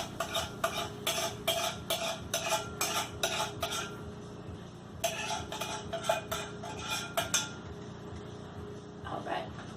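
A metal spoon scraping the inside of an emptied food can while cooking, giving a run of quick, close scrapes and clinks in two bursts separated by a short pause.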